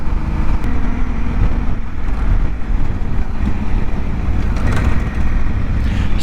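A Honda Africa Twin motorcycle rides along just under 3,000 RPM, its low engine rumble steady and loud beneath heavy wind buffeting on the microphone.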